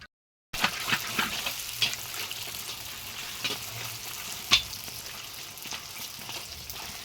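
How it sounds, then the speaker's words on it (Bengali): Fuchka puris fry in hot oil in a pan in a village kitchen, a soft, steady sizzle with scattered crackles and pops close by and no talking. "বেলে নিয়ে ফুচকাটা ভাজছি"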